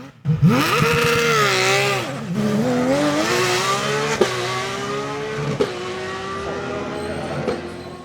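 A Porsche 997 GT3R race car on a hill climb at Turckheim revs hard and loud. Its engine pitch rises and falls through rapid gear changes as the car accelerates up the course, with a brief tire squeal.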